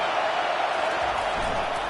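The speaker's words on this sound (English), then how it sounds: "Decibels rising as the crowd gets behind this defense on third down" A packed football stadium crowd in a CFL game, BC Lions at the Saskatchewan Roughriders, roars steadily on third down, a dense, loud wash of cheering that swells slightly toward the end, with no clear voices standing out.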